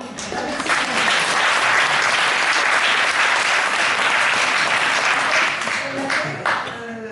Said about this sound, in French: franchement, applaudissons